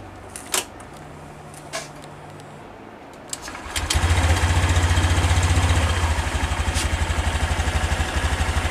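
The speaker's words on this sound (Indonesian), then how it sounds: "kita hidupkan dulu bagian mesin" A 2020 Honda Beat scooter engine cranks briefly after a few small clicks, catches, and settles into a steady, close idle with a fast even pulse.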